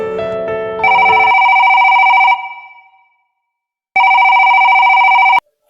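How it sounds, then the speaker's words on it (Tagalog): An electronic telephone rings loudly and close in two long tonal bursts with a silent gap between, after a short tone sequence at the start. "tinawagan ni Joel si Lauren"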